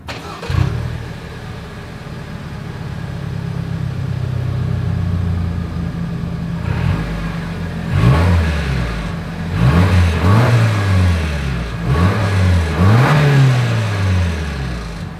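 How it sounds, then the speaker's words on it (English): A 2024 Lexus RX 350 idles with a steady low exhaust hum, then is revved several times in sharp rising and falling bursts from about eight seconds on, close and loud, with no talking. "As always, here is that exhaust clip."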